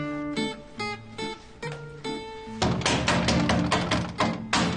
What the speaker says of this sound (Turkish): şu kapıyı vurup durma insanlar uyuyor